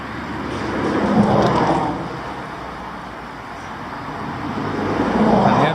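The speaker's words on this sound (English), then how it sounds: "not only is the cars noisy when they go past" Cars pass by on a nearby road, their noise swelling and fading twice as vehicles go past, a steady roadway hiss in between.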